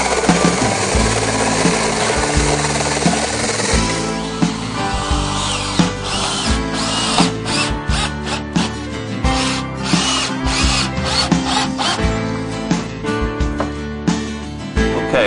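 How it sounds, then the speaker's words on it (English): Power drill boring holes through an RV floor to mount a holding tank, a loud continuous whine that surges and stutters as the bit bites, with rhythmic pulsing through most of the stretch and no talking. "this is our hole that I just drilled"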